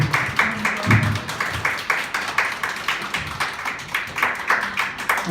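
A crowd claps in a steady, sustained round of applause, many hands together with a bright, pattering texture.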